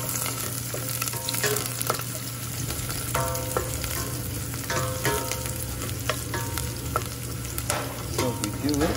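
Garlic sizzles loudly in a pan of hot oil for rock cod sisig, a steady crackling fry broken by scraping stirs of a utensil, close up with no talk.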